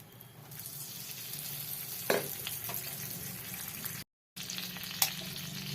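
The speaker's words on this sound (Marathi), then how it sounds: "चांगलं आपलं तूप वितळलं की आपण 2 कप मी बेसन टाकणार आहे." Two cups of gram flour tipped into melted ghee in a pan over low heat, giving a soft steady sizzle with a few scraping stirs and one brief dropout midway.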